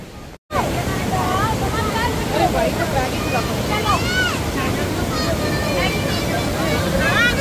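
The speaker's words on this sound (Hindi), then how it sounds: "आवाज़ सुन रहे हो ये है वाटरफॉल की आवाज़" A waterfall on the Jogini trek near Manali roars as a steady, loud rush of water, joined by gusting wind on the microphone and a voice talking over it.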